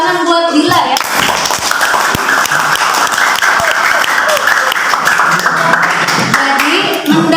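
Audience applause for a student presenter in a school classroom session, dense steady clapping from many hands filling the room for several seconds before tapering off, with a voice briefly speaking near the start.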